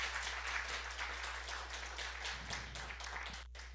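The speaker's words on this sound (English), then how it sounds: "let's give her another round of applause" A congregation applauds a speaker at a spiritual gathering, with sustained clapping under a low steady hum, fairly faint and slightly distant, tapering near the end.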